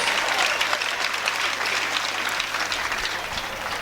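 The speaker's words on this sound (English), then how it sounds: "can we in get a London. big round of applause for both these ladies" Crowd applause at a women's boxing event in London after five rounds, a sustained, dense roar of clapping from a large audience, fairly loud and slowly tapering off at the end.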